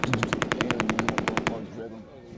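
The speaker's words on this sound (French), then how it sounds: "C'est une mitrailleuse qui s'approche de la pointe." A machine gun fires a rapid burst of about fifteen evenly spaced, loud, sharp shots, then stops and leaves a fading rumble and echo.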